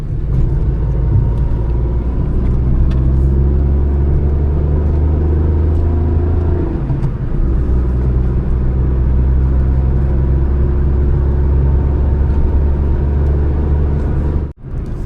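A Maruti Alto K10 car engine drives on twisty hill roads around Shimla, giving a loud, steady low rumble and drone that holds for the whole stretch, with a brief dip near the end and no talking.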